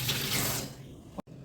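A little water poured into a pressure cooker while cooking pulses, a short rushing splash that fades within half a second, then a faint rumble and a brief metallic click.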